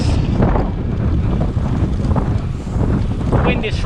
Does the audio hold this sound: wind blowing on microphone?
yes